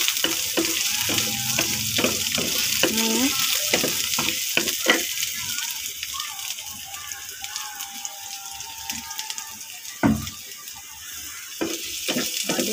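Semi-ripe banana pieces frying and being stirred in a pan for a Filipino home-cooked dish, a steady close sizzle with scraping spoon strokes and a few clinks, under light talk.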